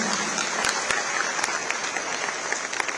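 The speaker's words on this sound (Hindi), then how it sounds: "जोरदार तालियां" Loud applause fills the hall at the inauguration of a silk expo in Uttar Pradesh, a continuous wash of many hands clapping with a few sharper individual claps standing out.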